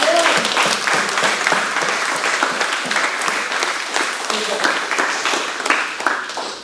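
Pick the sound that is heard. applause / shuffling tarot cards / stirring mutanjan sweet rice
applause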